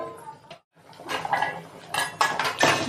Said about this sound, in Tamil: இப்போ ஒரு மூடி போட்டுடலாம் ஃப்ரெண்ட்ஸ்